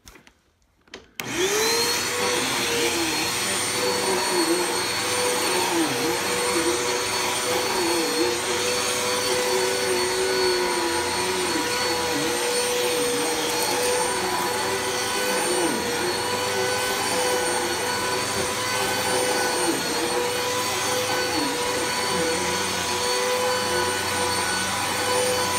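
A Hoover UH71100 Wind Tunnel heavy-duty upright vacuum cleaner switches on and runs at a steady, loud, close-up whine, with a wavering motor tone holding throughout and no talking.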